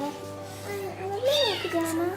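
Small kitten meowing, a few thin, rising and falling mews close by, with a person speaking softly around them.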